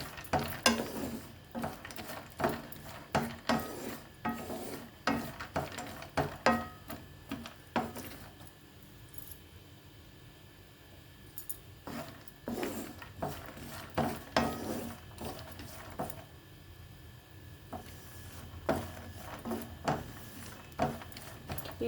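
Dry fruits roasting in ghee in a pan, stirred with a spoon that scrapes and taps the metal in an irregular rhythm, with faint sizzling under the clinks and a quieter pause midway.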